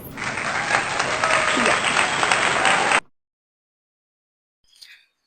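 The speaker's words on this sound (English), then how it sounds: "Somebody should clap for me, please." Applause rings out steadily for about three seconds, then cuts off abruptly into silence, followed by a brief faint sound near the end.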